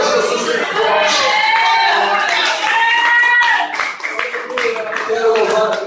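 Church congregation applauding at a Brasil Para a Cristo service in Cataguases, dense sustained clapping mixed with voices and cheers, strong throughout and easing briefly near the end.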